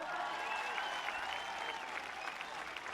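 Sustained applause from a rally crowd in Gyumri as a candidate is welcomed, a dense, steady patter of clapping with faint voices threaded through.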